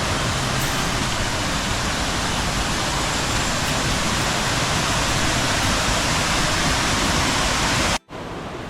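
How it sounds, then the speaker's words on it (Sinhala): Kumari Ella waterfall in Sri Lanka, heard from near its upper section as a loud, unbroken rush of falling water filling the scene, with no voices and a brief dropout near the end. "හරිම සුන්දර ලස්සන දියඇල්ලක්"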